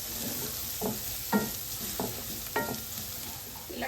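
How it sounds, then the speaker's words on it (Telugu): Boti (goat tripe) being stirred with turmeric in oil in a frying pan: a steady close sizzle under repeated scraping strokes of a spoon against the pan, each stir landing roughly every half second to a second. "పసుపు వేసేసుకొని ఇది కూడా మంచిగా కలుపుకోవాలి."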